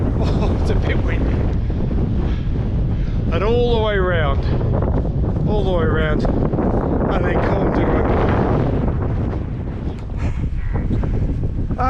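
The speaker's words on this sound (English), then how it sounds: "Oh, it's a bit windy." Strong wind buffets the microphone in a constant roar on a mountain summit at Fan Frynych in the Brecon Beacons, with people talking briefly over the gusts.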